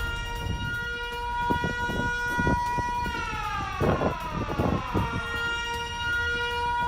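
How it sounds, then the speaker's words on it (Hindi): Loud air raid sirens in Bahrain wail steadily during an Iranian drone attack, over a low rumble, their pitch sliding downward in overlapping sweeps midway through before settling back to a sustained tone. "और बहरीन में सायरन बजने लगे।"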